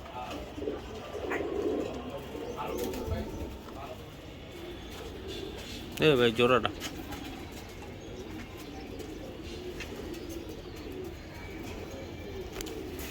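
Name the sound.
Giribaz racing pigeons cooing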